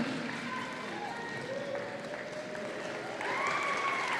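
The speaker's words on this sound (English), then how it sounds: "let's give a big round of applause to all the seniors and the alumni over here" An audience claps for seniors and alumni at a robotics state championship, a steady wash of applause that swells louder near the end.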